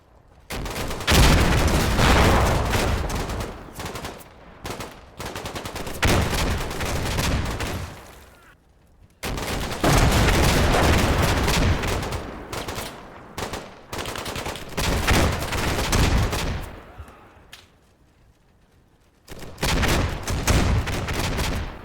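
Stryker vehicles lay down cover fire in the military video game Combat Mission Shock Force 2, heard as dense, sustained bursts of heavy gunfire and booms in long loud stretches, broken by short quiet gaps.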